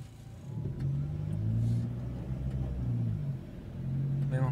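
Toyota Hilux 4x4 SRV automatic pickup pulls away from a standstill, its mid-pitched engine rising and revving in steady surges, close and fairly loud, with no talking over it.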